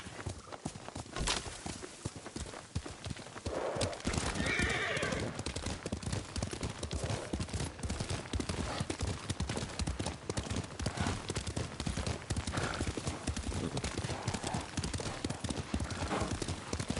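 Horse hooves clip-clop in a steady, continuous rhythm while riding in Ghost of Tsushima, with a whinny rising briefly early on, under wind and ambient game sound, and voices talking intermittently.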